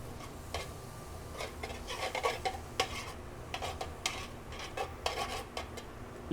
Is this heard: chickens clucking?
no